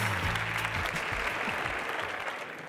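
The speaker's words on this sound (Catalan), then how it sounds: "si podeu donar un fort aplaudiment al senyor John Hoffman" An audience at an education event applauds as John Hoffman, CEO of the GSMA, is welcomed on stage: a short burst of dense, steady clapping that tapers slightly after nearly three seconds.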